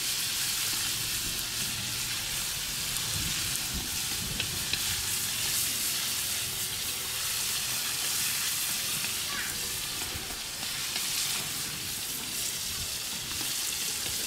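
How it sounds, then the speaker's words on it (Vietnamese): Fish marinated with ginger and lemongrass fries in a pan until golden, with a continuous loud sizzle and crackle of hot oil throughout. "Rán vàng lên là nó sẽ không bị tanh."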